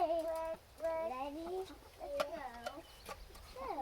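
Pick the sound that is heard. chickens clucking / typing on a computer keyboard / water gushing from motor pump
chickens clucking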